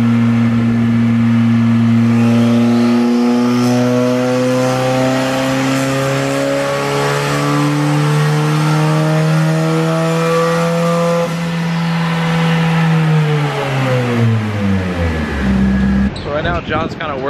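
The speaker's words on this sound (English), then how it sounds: "John's dialing the drivability, making sure everything is smooth before he actually gives it the beans in 4th gear or 3rd gear" A 1000-horsepower Mitsubishi Evo 8 engine revs on a dyno, its strong tone climbing steadily over many seconds to a loud, sustained high pitch, then falling off sharply near the end with a short crackle.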